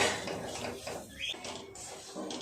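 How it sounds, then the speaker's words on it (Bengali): A spoon scrapes and clinks in a pan as a potol dolma filling with chopped cashews and raisins is stirred and dried out. The close, irregular scraping plays alone with no voice. "খুব ভালো করে আর একটু নেড়ে চেড়ে পুরটাকে একটু শুকনো ভাব করে নেব।"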